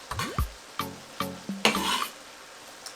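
Vegetables for a lasagna get stirred in a hot pan, giving a sizzle with several sharp scraping and clattering strokes of the utensil at a steady pace, close and moderately loud.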